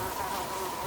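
A dense swarm of mosquitoes in the Siberian Arctic tundra drones in a continuous high-pitched whine, loud and close, filling the whole moment without any voices.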